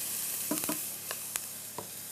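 White onions hit hot oil in a frying pan, giving a faint, steady sizzle broken by a few soft clicks and stirring knocks, heard close with no talking.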